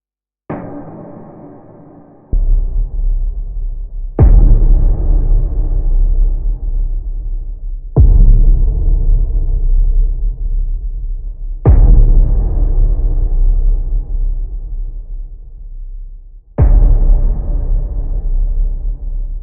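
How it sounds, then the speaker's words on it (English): Five heavy cinematic trailer booms synthesized in Serum 2, given a metallic ring from a pitched-down recording, spaced evenly a few seconds apart, each a deep loud hit that rumbles and decays slowly. "we can use a recording to give the boom a more metallic character"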